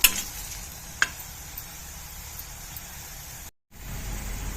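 Vegetables dropped into hot oil in a kadai over a medium flame, giving a steady soft sizzle with a couple of sharp clinks near the start and a brief dropout near the end.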